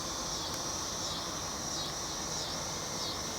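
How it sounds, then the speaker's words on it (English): On a hot day of around 100 degrees, a mass of bees around a hive gives off a dense, continuous high hum, steady and alone without voices. "There's a lot of bees."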